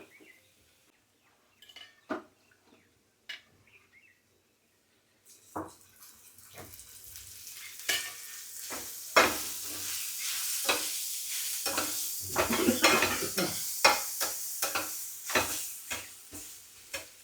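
Onion frying in a little oil for momo filling: faint scattered clicks at first, then a close, building sizzle and crackle with spoon stirring strokes throughout the second half, no speech.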